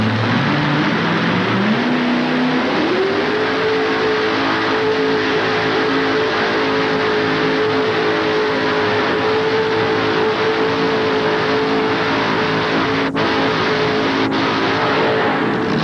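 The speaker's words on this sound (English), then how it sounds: "Jim Olendorff, the Bud Digger II, homemade tractor, 572 cubic inch Chevrolet motor on board as he gets ready to come on down right here." A loud, big homemade pulling tractor engine, a 572 cubic inch Chevrolet, idles roughly at a 1988 tractor pull, then revs up around two seconds in and holds a steady, high roar for the rest of the stretch.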